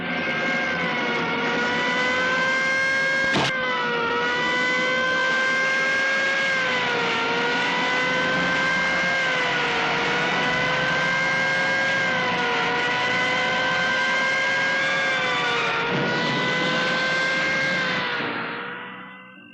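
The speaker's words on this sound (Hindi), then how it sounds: "गाड़ी स्टार्ट करो, चलो।" A car engine runs loud and close with a steady revving whine that rises and dips as it pulls away, a sharp click near the start, fading out at the end without speech.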